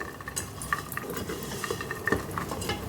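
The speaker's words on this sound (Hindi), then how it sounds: "इससे तकरीबन 3 से 4 मिनट के लिए इसे कंटिन्यू आपने चमचा चलाना है, ताकि अच्छे से फ्राई हो जाए" A ladle stirring aloo wadiyan as it fries in a pot, giving steady scraping and clinking of metal with a soft sizzle underneath, close and continuous.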